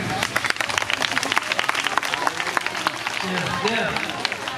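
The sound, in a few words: devotees clapping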